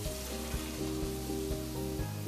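Shrimp sizzling hot right out of a convection oven, a close steady crackling hiss with a low mechanical hum and a few soft knocks underneath.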